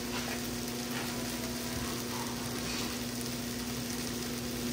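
Butter sizzling and melting in a hot pan ahead of making steak and bell pepper quesadillas, a continuous dense crackling hiss, loud and close, with a steady tonal hum beneath and no speech.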